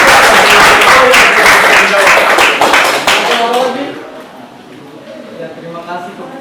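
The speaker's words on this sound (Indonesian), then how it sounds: "berikan aplaus dulu buat" A classroom audience gives a dense round of clapping for a student group's answer, loud at first and then thinning out and stopping as a voice starts speaking.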